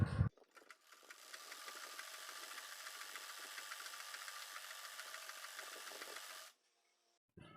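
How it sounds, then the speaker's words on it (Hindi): A sewing machine runs a seam on a Rajasthani magji ghagra, giving about five and a half seconds of close, steady mechanical whirring and rattling that stops cleanly, with no talk. "यहाँ पर हम एक सिलाई और कर लेंगे,"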